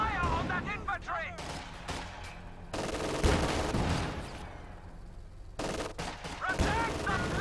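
Battlefield gunfire in the strategy game Reign 2 as troops fire on infantry: repeated bursts of shots and heavy impacts, loud and dense, with a voice talking over parts of it.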